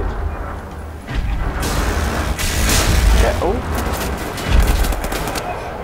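Bursts of rapid gunfire and booming shots from the shooter game Wolfenstein The New Order, loud and dense over a rumbling low end, with a person talking over the action.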